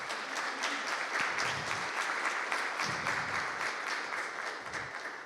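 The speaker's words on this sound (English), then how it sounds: "let's have a round of applause for Jason" An audience at an Insomniac Games artist panel applauds a panelist, a steady, even patter of many hands clapping across a mid-sized hall, fading slightly at the end.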